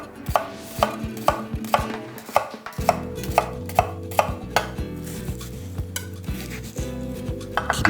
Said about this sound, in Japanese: 切り込みを入れみじん切りに切っていきます。